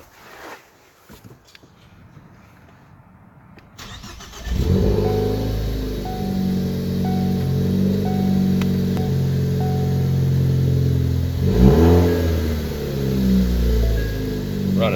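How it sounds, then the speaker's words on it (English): A car engine cranks over and catches after a spark plug replacement with NGK 6510 one-step-colder plugs, then settles into a steady, smooth idle close by, with a brief rev near the end. "let's get inside the vehicle and crank it on up"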